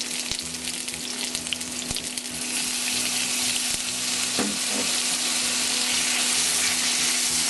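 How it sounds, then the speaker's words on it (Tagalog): Onion and garlic sauté in a pan for a pork and green bean dish, a loud dense hissing sizzle that swells and holds steady, with a few light knocks early on and a low hum beneath. "Ipupuri lang natin ang pagisa hanggang sa lumambot yung sibuyas"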